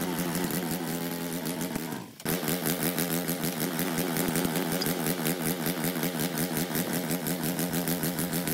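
A snow blower engine runs rough, a continuous uneven chugging drone with fluttering pulses and a short dip in power early on, close to the microphone.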